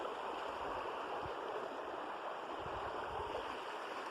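Oak Creek's water rushes steadily past a campsite, making a continuous close, broad hiss and gurgle with occasional low splashes and no talking.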